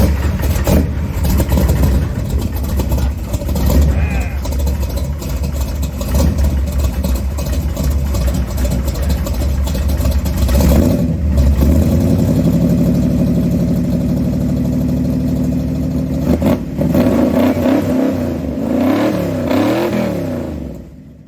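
A 1968 Dodge Dart GTS with a 440 engine revs loudly and continuously up close, the throttle rising and falling in repeated surges over a steady rumble.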